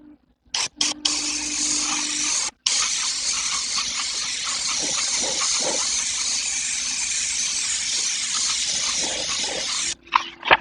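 Steady airbrush hiss runs almost unbroken for several seconds, cutting off briefly once, with faint handling noises at the start and end.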